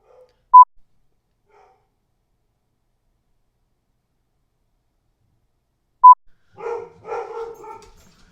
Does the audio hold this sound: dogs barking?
yes